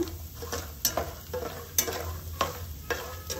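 Peanuts roast in a pan for bhelpuri, a soft steady sizzle broken by sharp periodic scrapes and clicks as they are stirred and tossed, close and unvoiced.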